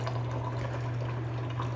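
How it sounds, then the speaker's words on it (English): White tea being strained away from its leaves by a tea master, a steady close liquid pour running continuously over a constant low hum, no voices. "The tea master separates the leaves from the tea water"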